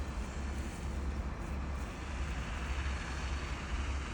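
A steady low tractor engine drone hums in the distance, continuous and even, with a broad hiss of open-air background over it, in rural tobacco country.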